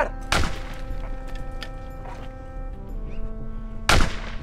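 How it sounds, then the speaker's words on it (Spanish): Two sharp gunshots sound in the 2018 film Justicia Divina, one near the start and one near the end, each a loud crack over a steady, humming background. "¿Se oyen disparos?"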